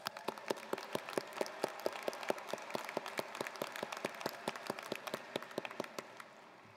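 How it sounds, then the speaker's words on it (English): Steady, fairly distant applause from a graduation ceremony audience, a dense run of claps that fades out toward the end, with no voices over it. "That deserves a round of applause."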